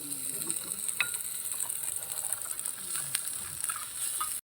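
Chopped onions sizzle as they fry in hot oil in a pan with ginger nearby, a soft, steady crackle with a few sharper pops, quiet and close, with no voices.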